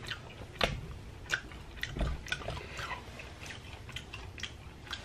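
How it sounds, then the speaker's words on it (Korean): Crunchy chewing of crispy grilled sea hare dipped in sauce, close to the mic, with irregular bites and soft squishy mouth sounds and no talking. "제가 바로 찍어서 먹어볼게요."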